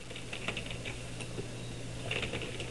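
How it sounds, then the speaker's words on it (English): Typing on a computer keyboard: quiet, uneven clusters of key clicks close by, with soft taps and a few brighter strokes over a low background hum. "basically you just type your message"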